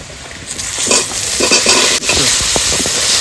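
Taro greens dropped into hot oil already spiced with bay leaf, dried chilli, five-spice, garlic, salt and turmeric, bursting into a loud, steady sizzle and crackle up close, with a brief dip partway through, no voices.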